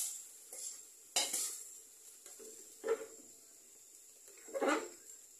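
Onions soften in hot oil while being stirred: a faint sizzle underneath, broken by a few distinct scraping strokes of a spatula against the pan, spaced a second or two apart.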